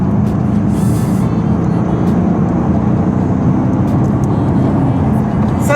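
A Mercedes S550 in sport mode accelerates hard, heard from inside as a loud, steady, unbroken roar of engine and road noise.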